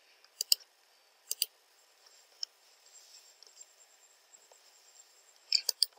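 Computer mouse clicks in a quiet room while working in structural design modeling software, coming in small spaced pairs and bursts, with a cluster of quick clicks near the end.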